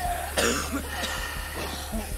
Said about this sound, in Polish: O nie, kaszle z każdej strony słyszę.